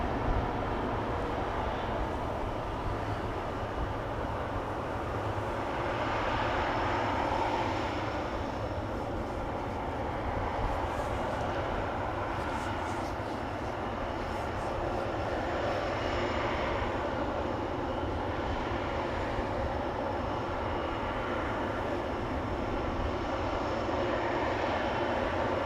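Jet airliner engines at Amsterdam Schiphol Airport produce a steady, continuous broadband roar that holds level throughout, distant but filling the air.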